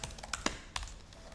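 Keystrokes on a computer keyboard while a message is typed into Microsoft Teams: a short, uneven burst of close, crisp clicks with a few sharper taps standing out, heard without any voices.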